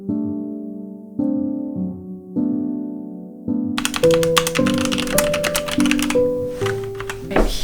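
Rapid, close clicking of a computer keyboard as someone types out a piece of writing, a crisp irregular rattle of keystrokes over sustained background music.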